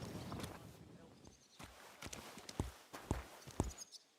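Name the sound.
horse walking, clip-clop hooves, from video game Kingdom Come: Deliverance II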